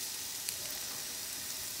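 Onions added to a hot pan for a ground turkey chow mein, producing a soft, steady hiss of sizzling with one faint tap, fairly quiet and with no talking.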